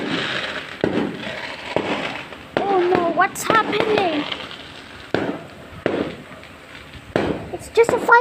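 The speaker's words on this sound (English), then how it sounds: "It's just a fireworks." Fireworks burst at night during New Year celebrations, a series of sharp bangs and crackling pops, some close and loud, others fainter, with whistling rising streaks between them and an alarmed voice talking over the blasts.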